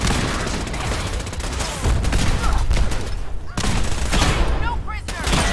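Dense volleys of gunfire in Fallout 4, rapid shots and bursts overlapping continuously near and loud for several seconds, with someone talking over the combat.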